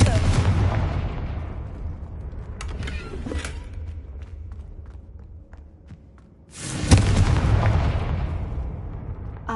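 A Confringo fire spell bursts with a heavy boom in Hogwarts Legacy, loud blasts near the start and again late, with a lower rumbling lull between.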